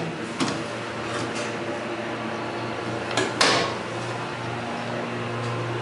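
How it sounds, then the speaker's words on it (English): A slow Arrow hydraulic elevator door operator opens or closes, a steady low motor hum running throughout with a few soft clunks and brief scraping bursts, close by and with no talking. "Quite the slow door operator."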